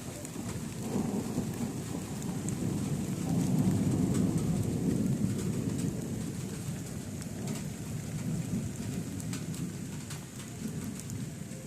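Rain and thunder while tandoori chicken is being cooked outdoors: steady rainfall patters on surfaces and low rolling thunder swells and fades, continuous and fairly quiet, with no talking.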